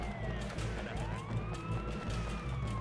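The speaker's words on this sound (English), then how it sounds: "what's making that siren noise?" Police siren wailing in the video game Sleeping Dogs, a rising and falling tone that holds steady and fairly faint beneath a low rumble of engine and game noise.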